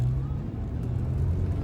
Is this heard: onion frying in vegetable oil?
no